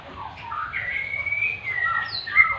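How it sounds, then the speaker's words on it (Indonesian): A white-rumped shama (murai batu) from a mated pair that has not yet laid eggs sings clear whistled, sliding chirps, close and moderately loud, filling a short stretch without voices. "di depan saya ini adalah murai batu yang sudah berjodoh teman-teman, tapi dia belum bertelur"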